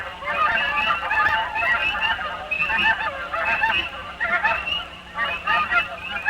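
Canada geese honk repeatedly in overlapping bursts, a loud flock chorus of nasal calls rising and falling in uneven rhythm.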